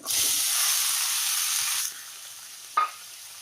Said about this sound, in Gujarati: મરચાં સાંતળાઈ જાય એટલે આપણે એડ કરીશું ડુંગળી